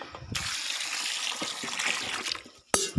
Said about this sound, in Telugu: ఇది ఇప్పుడు కాస్త నీళ్ళు పోస్తా